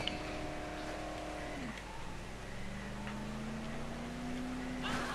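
A vehicle drives in the zombie game Dead Island, a faint engine drone whose pitch sweeps down, then settles into a steady hum with light background noise.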